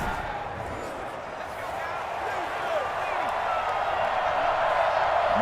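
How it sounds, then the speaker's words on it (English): Loud, steady crowd roar from a stadium in the football video game Madden 21, with faint scattered claps and cheers, continuous and building slightly across the whole stretch. "They have that extra crowd so loud for no reason."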